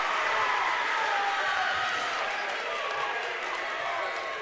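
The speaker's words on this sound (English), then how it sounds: "The Danville crowd's getting into it" Danville basketball crowd cheering in a high school gym during a boys game against East Knox, a continuous loud wash of cheering and shouting that stays fairly even throughout.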